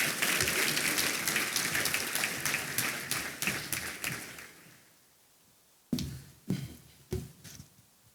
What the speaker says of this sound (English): Can I please have a round of applause for our second group of nominees?